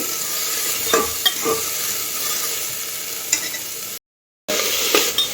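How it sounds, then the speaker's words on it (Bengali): Chopped onions and spices sizzle and crackle in a pan while being stirred, with a few scraping knocks and a brief silent gap. "এবার পেঁয়াজ কুচিগুলো একটু এই মশলাগুলোর সাথে আমি নাড়িয়ে নিচ্ছি"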